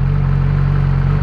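A Yamaha R6 sport motorcycle idles smoothly after an idling fault was fixed, a steady low hum and whir holding an even level throughout with no revving.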